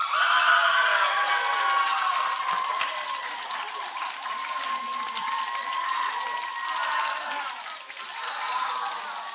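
A crowd at a DRL decision day cheers and applauds continuously, a dense roar of clapping and shouting voices that stays loud throughout.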